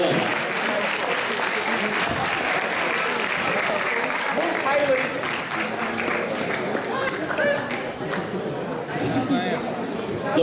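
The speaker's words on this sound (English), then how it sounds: "Give them a round of applause please, well done." School assembly audience applauds pupils receiving certificates, a loud, dense wash of clapping with chatter and voices mixed underneath throughout.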